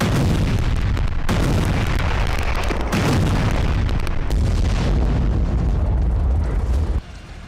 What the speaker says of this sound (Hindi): महज 35 मिनट में कुल 30 धमाके।